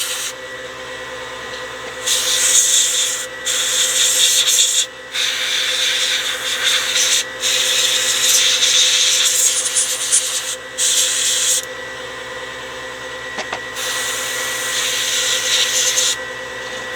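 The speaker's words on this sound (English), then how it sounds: "As the compressor strains." An airbrush compressor strains with a constant low hum while a model is painted, and repeated bursts of airy spray hiss come and go on top of it.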